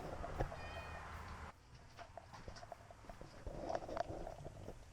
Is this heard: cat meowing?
yes